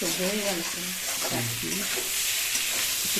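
New potatoes sautéing with spices for kosha aloo dum, a continuous loud sizzle and frying hiss with stirring, while a person talks briefly over it.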